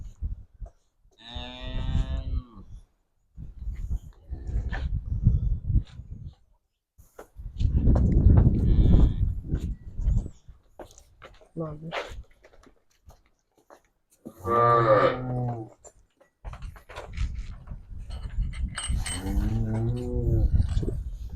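Several loud, drawn-out moos from freshly calved dairy cows spread across the stretch, each a deep bellow with rising harmonics, separated by short pauses and some shuffling noise.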